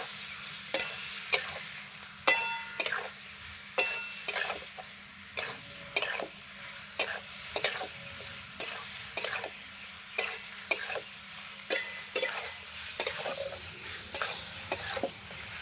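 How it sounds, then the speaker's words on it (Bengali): Spice masala being sautéed in a pan for a fish curry, a steady low sizzle broken by regular scraping stirs and clicks of the spoon against the pan, roughly one every second, close and clear. "এবার ভালো করে নাড়াচাড়া করে নেব ভালো করে এবার আমি কষিয়ে নেব"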